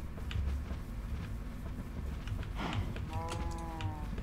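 Cow in the Minecraft IndustrialCraft modpack, with a low game moo rising out of a busy background of ambient game sounds, followed by a brief drawn-out tonal call near the end, with no voices.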